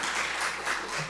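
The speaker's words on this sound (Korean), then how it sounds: "박수 쳐도 됩니다." A church congregation at a Sunday morning worship service applauds, a dense, steady wash of clapping from many hands heard briefly and fairly loud.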